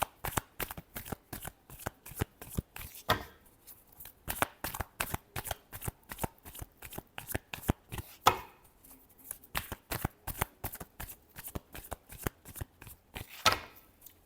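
Tarot cards are shuffled by hand in a long run of quick, crisp riffling slaps, steady and rhythmic with a couple of brief pauses, close and fairly quiet with no talking over them.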